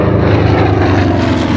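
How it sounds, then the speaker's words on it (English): A P-47D Thunderbolt Bubble Top WWII fighter flies at an air show, its propeller engine giving a loud, steady, close roar throughout with no talk over it. "Another good look here at the P-47D Bubble Top."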